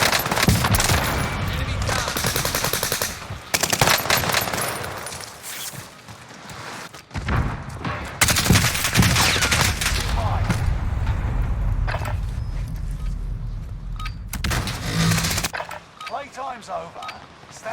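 Warzone game gunfire played through a Corsair Void Elite wireless headset: loud, repeated bursts of automatic fire and single shots in clusters separated by quieter gaps, with speech mixed in.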